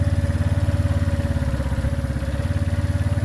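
A Benelli Keeway 125cc motorcycle idles steadily up close, its engine putting out a loud, even pulsing thrum with a constant low rumble and no voices.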